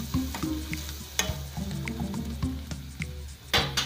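Onion sautés in a pan with chilli, coriander and turmeric powder, a soft continuous sizzle broken by repeated scraping stirs, close and moderately quiet.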